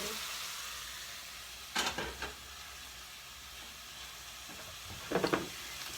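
Vegetables for a spicy vegan fried rice fry on medium-high heat in a soft, even sizzle, interrupted by two short bursts of spatula scraping and tossing.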